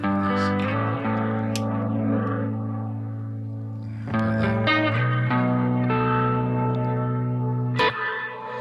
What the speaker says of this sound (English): that's how you put effects into your reverb